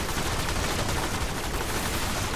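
Rapid gunfire from Warframe in a solo Gradivus event, a dense continuous barrage of automatic shots filling the whole moment at steady loudness with no pauses.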